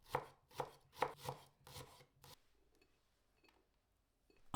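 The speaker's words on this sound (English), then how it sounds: "Slice 1 shallot." A knife slices a shallot on a cutting board in about five quick, close, crisp thuds, then the room falls nearly silent with a few faint taps.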